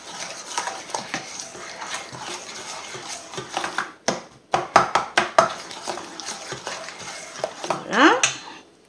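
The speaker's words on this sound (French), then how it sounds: "On met notre saumon coupé en petits morceaux. Et on remue." Small pieces of cut salmon are stirred in a pan, with scraping and clattering of the utensil against the pan in uneven bursts that grow sharper and denser toward the middle.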